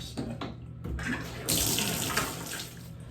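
Water running from a tap while rinsing a bathtub drain during bathroom cleaning, a steady close rushing flow that swells partway through, with faint clatter at the start and no voices.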